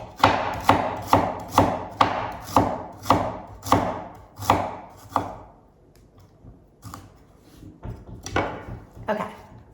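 A knife chops fennel on a board in quick, even, loud strokes for about five seconds, then a few slower, scattered cuts follow after a short pause.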